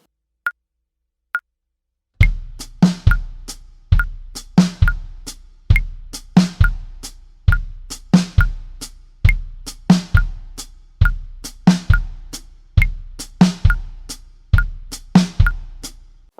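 A drum-kit beat with a steady rhythm of kick drum hits and crisp snare hits under a fast ticking hi-hat. A couple of soft count-in clicks come first, then the full groove repeats loud and close.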